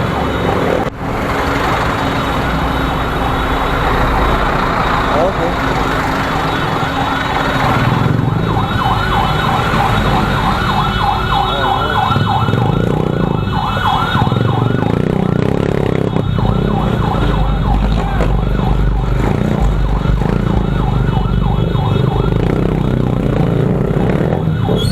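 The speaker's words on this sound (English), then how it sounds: "When the ambulance gets stuck" Ambulance siren wailing steadily in heavy traffic, loud and continuous throughout with a cycling tone over engine and road rumble, no talk.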